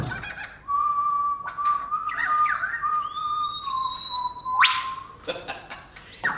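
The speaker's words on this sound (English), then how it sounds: "Occasionally, I hear a man whistling," A man whistles the tune "Rule Britannia" in clear, sustained, sliding notes with one sharp upward swoop, fairly close and with no talk.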